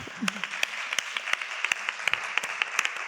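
An audience applauds at a theatre performance, a loose scatter of distinct claps from a small group, close and moderately loud, with faint voices beneath.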